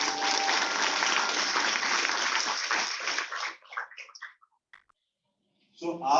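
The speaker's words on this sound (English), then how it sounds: "I request all of you to please give round of applause to all these students who are coming up and encourage them" Audience applause for students at an annual prize distribution ceremony for CBSE Class X, a dense burst of clapping that fades out after about three seconds, leaving scattered claps before a voice starts.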